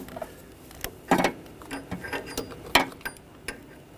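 A socket wrench tightens an upstream O2 sensor on a 2013-2019 Ford Escape, giving faint, irregular ratcheting clicks and small metallic knocks at close range.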